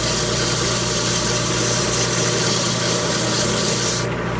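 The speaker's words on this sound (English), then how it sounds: "Well, I'm just sanding. 100 grit." A solid wooden mug is sanded with 100 grit paper as it spins on a woodturning lathe, giving a loud, steady abrasive hiss over the motor's hum until it cuts off at the end.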